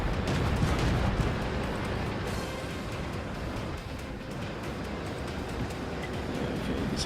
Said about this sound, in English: Artillery misses me again.